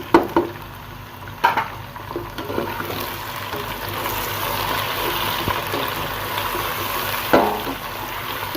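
Tomatoes and green chillies go into a pan of frying garlic and ginger. A broad, steady sizzle follows, with a few sharp clatters of a utensil against the pan close by, and no one speaks.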